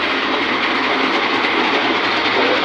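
A chakki grain mill runs on a farm, giving off a loud, steady, close-up mechanical roar with a faint rapid rattle and no breaks or voices.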